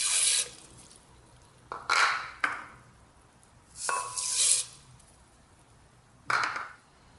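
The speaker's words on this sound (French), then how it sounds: "Vous versez tous les ingrédients dans votre blender. Donc le vinaigre de cidre, l'eau et vos graines de moutarde." Cider vinegar, water and mustard seeds are poured into a blender jar in a kitchen, making several separate short splashy pours with quiet gaps between them and no talking.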